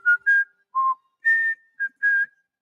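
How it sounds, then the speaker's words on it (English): A person whistles a short tune, six clear, bright notes in a halting rhythm, close and alone with no talk. "You'll hear that music a lot. You may even whistle to it,"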